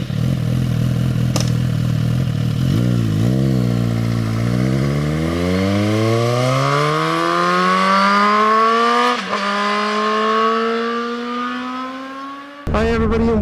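Ride on a 2024 Suzuki GSX-S1000 GT motorcycle, the engine pulling up through the rev range in long rising sweeps with a brief gear-change dip, a loud steady roar close by.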